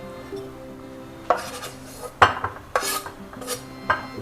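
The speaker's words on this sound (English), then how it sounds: "next I am going to just mix all the dry ingredients" Dry spice ingredients for grilled chicken are mixed in a bowl with a utensil, giving irregular scraping strokes and sharp clinks against the bowl, close and fairly loud, with no talk.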